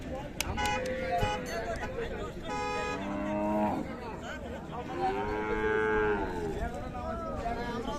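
Cattle at Raniganj cattle market in Dinajpur moo in two long, loud calls, with people talking, general crowd bustle and a car horn in the background.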